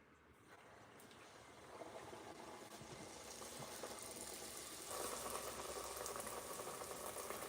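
Alaskan fry bread dough frying in hot oil, a steady broadband sizzle and bubbling that grows louder partway through and continues without pause.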